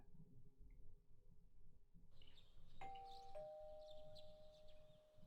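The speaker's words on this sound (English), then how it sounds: "You hear the doorbell ringing." A doorbell chimes in the video game Persona 4, two clear ding-dong tones ringing out in sequence and sustaining over a faint, quiet background, with no talk.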